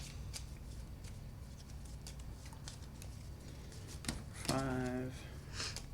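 Dominion playing cards being shuffled at a tabletop game session, a brief riffle of papery card flicks near the end amid faint room noise and occasional talk.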